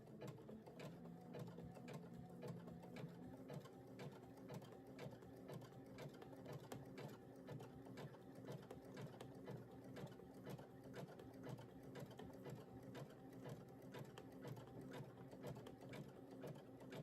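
A sewing machine stitches in a fast, even mechanical rhythm, running continuously at a quiet level with no talking.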